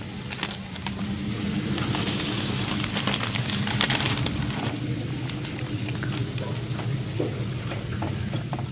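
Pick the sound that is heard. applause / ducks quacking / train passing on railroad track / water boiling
water boiling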